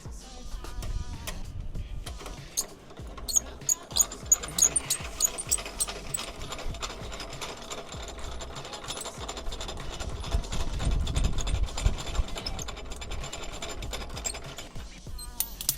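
A hand winder cranks a Glenaire window actuator, giving a continuous stream of rapid ratcheting clicks and gear whir that stays close and moderately loud for the whole stretch.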